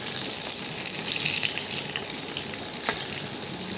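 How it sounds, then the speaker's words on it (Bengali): Ash gourd slices, stuffed, fry in a pan with a steady, close hiss and crackle of hot oil that runs unbroken throughout, with no talking. "চালকুমড়োগুলোকে আমরা ভালো করে এপিটোপিট করে ফ্রাই করে নিয়েছি"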